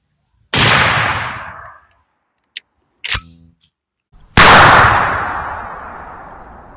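A 12-gauge shotgun fires Remington Express #0 buckshot, two loud close blasts with long decaying echoes, separated by metallic clicks and clanks of the action being worked.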